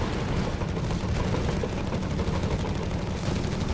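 Dense, continuous gunfire and explosions in a WWII strategy video game with Panzers and grenades, with rapid machine-gun bursts layered over booming artillery and airburst shells, loud and unbroken throughout.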